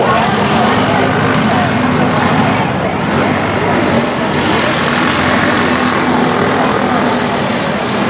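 Race cars roar around the Gulf Coast Speedway oval at a green flag start during a regular race program, a dense continuous engine drone that stays loud and unbroken throughout.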